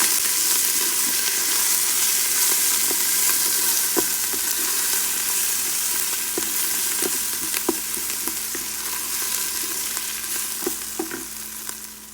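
Lamb curry with turmeric frying in a pan as it is mixed, a loud, close, continuous sizzle punctuated by irregular clicks and scrapes of the spoon throughout.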